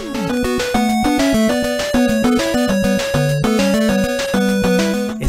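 The classic Mega Man title theme in B minor: upbeat melodic game music with a plucky bass line and steady rhythmic pulse, bright synth tones layered over it, played continuously without voices.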